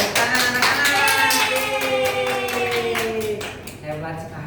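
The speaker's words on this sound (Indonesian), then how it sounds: "Baik, tepuk tangan anak-anak." Children in a primary-school social-studies class clap their hands in a quick, regular rhythm while young voices chant along, the claps forming an even pulse under the singing.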